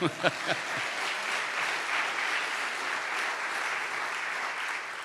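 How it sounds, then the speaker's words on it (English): An audience at an award ceremony breaks into steady applause, a dense wash of clapping that holds at an even level for several seconds, with a few sharper claps near the start. "You can applaud for that, too."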